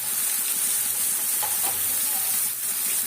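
Ground masala sautés in oil with mustard seeds, fenugreek and onion for a fish curry, giving a steady close hiss and sizzle with faint stirring, continuous and even throughout the short stretch.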